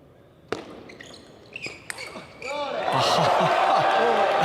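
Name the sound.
fireworks set off at the start of a table tennis final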